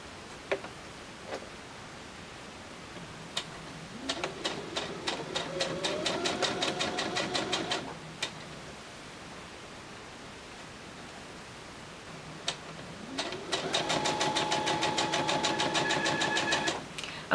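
Home sewing machine stitching binding onto a quilt, in two bursts of rapid, even mechanical ticking: one from about 4 to 8 seconds, another from about 13 seconds to the end, each with a rising motor whine at the start, clicks between.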